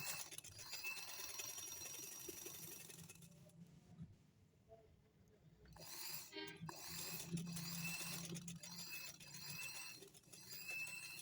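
A sewing machine stitches fabric along a garment neckline, whirring in quiet, close runs with a brief pause midway before stitching resumes.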